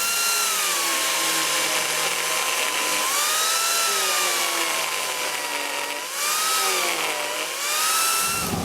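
An Arbortech power carver whines steadily as it cuts around the edge of a wooden mushroom template, its pitch dipping and rising slightly while the blade is guided along the wood, loud and close throughout.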